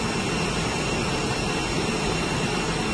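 Air France Airbus jet engines on approach to Marseille airport at night, a loud, constant broadband roar with a steady whine, unbroken and close.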